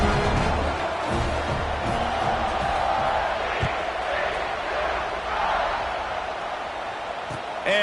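Stadium crowd in College Football 26 keeps up a steady, dense roar across the whole stretch, loud and continuous, with a few sharper shouts poking out of the wash of noise.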